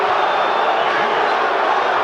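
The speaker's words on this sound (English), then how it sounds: "the Let's Go Bowe chant breaks out" Boxing match crowd at a Holyfield versus Bowe fight keeps up a steady, dense roar of massed voices, with a chant rising from the arena throughout without a break.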